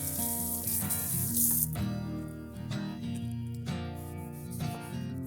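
Tap water runs steadily into a sink while peaches and tomatoes are rinsed under it, a close, continuous splashing hiss with slight shifts as the fruit moves through the stream.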